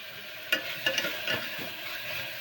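Onion and tomato frying together in a pan give a steady, close sizzling hiss, broken by a few soft scrapes and clicks as they are stirred.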